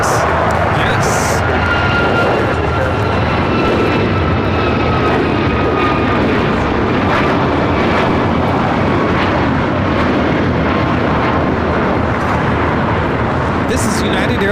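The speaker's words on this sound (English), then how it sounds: "This is United Airlines 765 taking off to Kahului on the MAX 8" A United Airlines Boeing 737 MAX 8 takes off from LAX, a loud, sustained jet engine roar filling the scene throughout while people talk over it.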